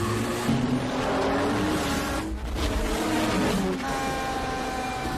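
Drag race cars from The Fast and the Furious roar loudly and continuously, engine pitch rising as they accelerate, with a brief dip in the middle.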